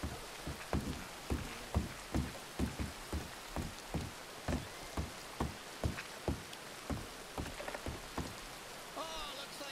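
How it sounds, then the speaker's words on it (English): Rain falls on a surface outdoors, with drops striking in a regular tapping rhythm, fairly close, over a soft wash of background noise. "Like Jesus picked a fine day to let it just rain on down."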